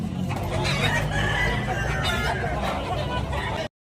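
An 18-month-old rooster crows loudly nearby at a market in Tabunok while other chickens cluck and a faint murmur of voices runs underneath, ending abruptly.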